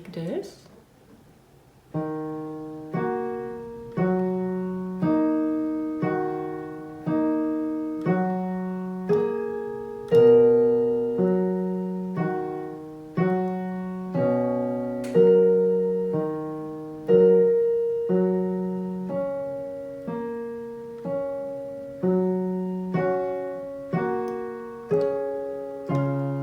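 Piano left-hand part plays alone in a slow, steady pattern of repeated broken chords, each note decaying gently, continuing evenly for the length of the passage without any talking.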